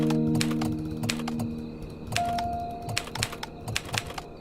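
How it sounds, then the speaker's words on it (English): Typewriter keys clack in the indoor cleaning game Undusted: a run of sharp, close mechanical taps at an uneven pace, with soft game music tones sustained underneath. "Press the typewriter keys 5 times."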